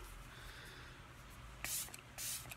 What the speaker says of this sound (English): I'm going to spray everything down.